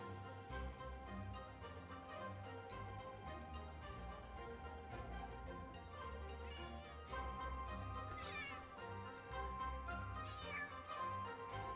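Palico cat companion meowing in Monster Hunter World: Iceborne, a few short rising meow calls near the middle and end over a steady bed of game music and ambience.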